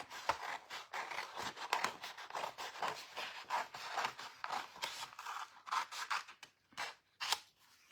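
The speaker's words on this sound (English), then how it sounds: "I'm just going to cut roughly around these ones here to take them out of that paper" Small sharp scissors snip around stamped images in paper, a quiet, close series of quick crisp cuts and rustling paper scrapes in an uneven rhythm.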